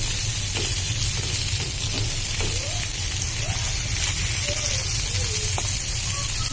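Surma fish sizzle in hot oil in a pan, a loud continuous frying hiss with occasional spatters and the light scrape of fish being turned.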